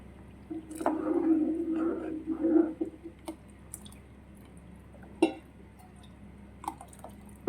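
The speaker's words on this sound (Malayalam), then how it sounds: "ഇനി നമ്മൾ 1-ാം പാൽ ചേർക്കാൻ പോവാണ്." First coconut milk mixed with cumin and cardamom powder poured into jaggery syrup for unakkalari payasam, a soft liquid gurgle and splash followed by a few faint clinks and wet sounds.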